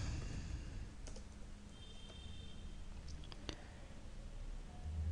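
A computer keyboard being tapped to enter a DOS command, a few faint scattered key clicks over a quiet room hiss.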